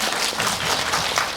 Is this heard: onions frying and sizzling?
no